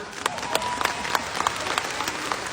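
Scattered clapping from an audience in front of a stage, with distinct individual claps rising over a low crowd murmur, moderately near and fairly thin rather than a dense ovation.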